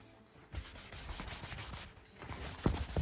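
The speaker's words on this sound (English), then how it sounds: "I'm going to swap out to a shop towel and just wipe some of that down" Shop towel rubbing and wiping finish off a wooden knife stock, with close, steady scrubbing strokes in a continuous rasping rhythm, briefly easing once before resuming, and no speech.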